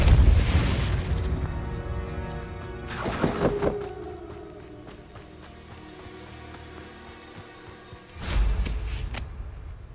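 Bombarda and Confringo spells from Hogwarts Legacy burst in a string of booming explosions, a heavy blast at the start, another near three seconds and a final loud one near the end, separated by quieter magical crackle.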